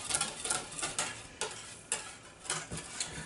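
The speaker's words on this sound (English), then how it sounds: "we gently mix that with the whisk so we can break down the lumps" A whisk works through a chocolate mousse mixture, making soft rhythmic scraping strokes roughly twice a second, quiet and close, with no voices.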